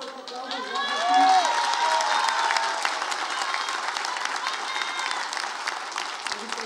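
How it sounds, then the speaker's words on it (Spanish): Applause from a crowd at a political registration event fills the room, a sustained wash of clapping with some cheering that rises early and holds steady to the end. "Un fuerte aplauso."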